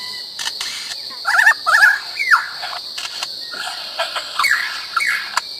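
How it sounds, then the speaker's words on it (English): A lyrebird calls near a road, giving a run of clear, separate whistles and warbling chirps in short bursts over a faint insect-like hiss. "there was a lyrebird that jumped over the road"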